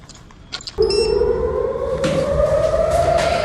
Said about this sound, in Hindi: सुन सकते हैं आप सायरन